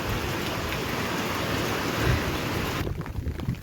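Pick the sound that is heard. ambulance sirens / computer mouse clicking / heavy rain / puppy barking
heavy rain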